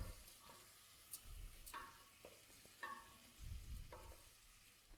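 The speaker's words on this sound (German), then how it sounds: "und lassen das jetzt einmal anbraten." Quiet sizzling of onion and rice frying in a pan for risotto, with occasional scraping stirs and clinks, steady and close, no voices.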